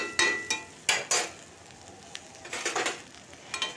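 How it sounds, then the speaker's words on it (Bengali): Drumstick and bitter gourd stir-frying dry in a kadai, with a soft steady sizzle broken by sharp scraping strokes of a spatula against the pan, close and irregular, no talk. "কড়াতে লেগে গেলেও কোনো চিন্তার কিছু নেই কারণ এটা ভাজা হচ্ছে শুকনো হচ্ছে"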